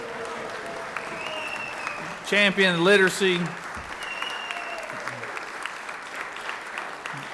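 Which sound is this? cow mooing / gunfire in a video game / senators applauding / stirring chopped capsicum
senators applauding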